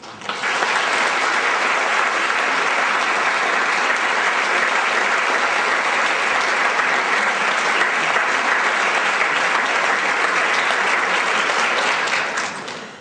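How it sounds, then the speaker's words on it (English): An audience at a talk on electronic health records privacy breaks into sustained, loud applause for a guest speaker, a dense even wash of clapping that holds steady for about twelve seconds before tapering off. "So I'd ask you to give a round of applause and thank welcome our guest, Dr. Andy Goldstein."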